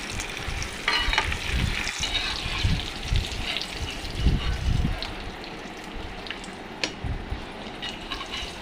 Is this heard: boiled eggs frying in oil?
yes